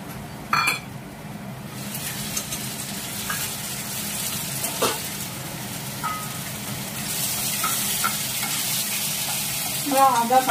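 Ginger paste frying under a lid in a pan while cooking vegetarian aloo dum, giving a steady sizzle with scattered pops and spatters, plus a few clinks of a utensil against the pot.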